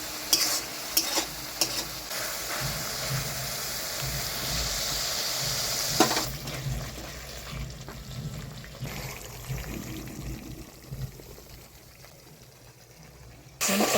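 Spice paste for a yogurt fish curry (doi kalia) fries in oil in a pan, with a steady loud sizzle and repeated spatula scrapes and stirs. The sizzle fades and grows quieter toward the end.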